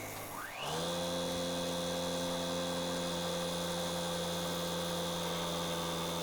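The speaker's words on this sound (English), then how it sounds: "harmonic build-up in that tool rest, bit of vibration, which is making my cuts not as smooth as I would like." A wood lathe spins up and settles into a steady, loud motorized hum with a strong tonal whine while an ash bowl turns, the tool rest vibrating; no voices.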